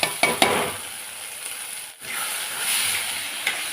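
Lima beans with tomato and masala are stirred in a pan on the stove, giving a steady close sizzle with scraping spatula strokes near the start and a brief dip midway.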